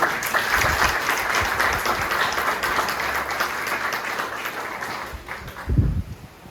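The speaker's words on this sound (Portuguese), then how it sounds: "Uma salva de palmas para o Senhor." A congregation at a church service breaks into sustained applause, a thick continuous wash of many hands clapping that tapers off near the end with a couple of louder thumps.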